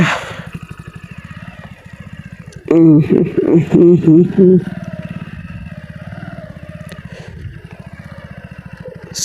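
Hero Splendor motorcycle ridden off-road: a steady, close engine thrum runs throughout, with a louder revving surge in the middle before it settles back to a rough, even idle-like chug.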